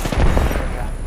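A grenade blast in a video game, a loud, dense, booming burst that fills the whole short moment and rumbles on without a clear break.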